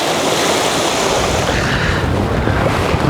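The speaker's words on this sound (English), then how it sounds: "Wind's come up a little bit" Gusty wind buffets the microphone at the shoreline while someone fishes with a Woody toy as the lure, a steady broadband roar with surf-like wash running throughout the short stretch.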